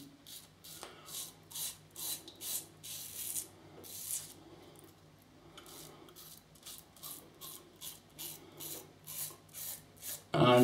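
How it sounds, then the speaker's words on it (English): A double open comb safety razor scrapes through four-day stubble over lathered soap, giving close, rhythmic raspy strokes in short bursts with brief pauses between them and a louder knock at the very end. "this razor and soap is just mowing through"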